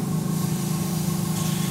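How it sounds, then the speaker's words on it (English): An airbrush fires leftover paint out of its chamber at full pressure, giving a steady, loud, continuous hiss that runs through the whole stretch with a low mechanical hum beneath it, no voices. "I'm just gonna blast it full bore and get everything sprayed out that I can get sprayed out"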